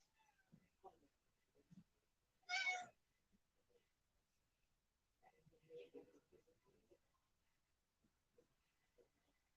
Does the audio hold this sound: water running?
no